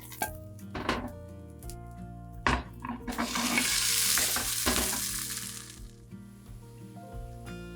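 Vegan potato rösti fries in a pan with a close sizzle that swells into a loud hiss for a few seconds, then eases, with clinks and scrapes of utensils and a background hum.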